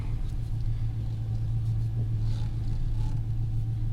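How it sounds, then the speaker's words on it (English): A slammed GMC Sierra pickup with a 5.3 V8 swapped in for its 4.3, driving down the road with a steady, deep engine drone and rumble, close and continuous, with no talk. "let's drive down the road and log this thing"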